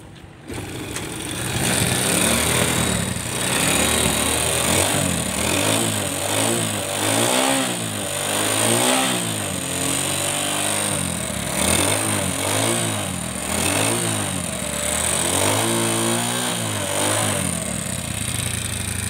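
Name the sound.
scooter engine running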